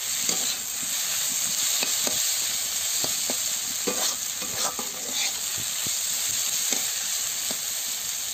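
Bitter gourd frying in a pan for an egg curry, with a constant hissing sizzle broken by repeated spatula stirs and scrapes against the pan, close up and without talk.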